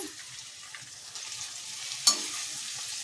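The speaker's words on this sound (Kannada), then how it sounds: "ಈಗ ಕಟ್ ಮಾಡಿರುವಂಥ ಕ್ಯಾಪ್ಸಿಕಮ್ನ ಸೇರಿಸ್ಕೊಳ್ಳಿ ಈಗ" Chopped capsicum sizzles in a hot pan for a curry, a steady soft frying hiss with light stirring and one sharp clink of a utensil partway through.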